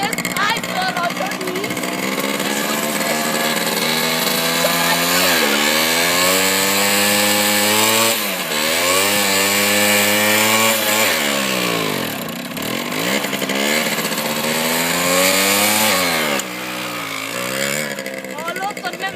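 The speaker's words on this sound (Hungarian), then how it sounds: "Móricz, tudom mi ez a kattogás?" Small motorcycle engine with a worn chain sprocket running and revving at close range, pitch climbing and dropping through several throttle changes, with a faint clicking under the drone.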